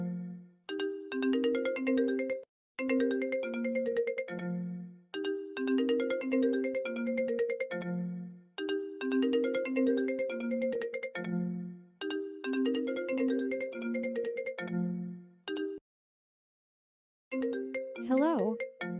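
Incoming call ringtone: a melodic electronic tune repeating in several loud, evenly spaced cycles with brief gaps between them, followed by a short rising tone at the end.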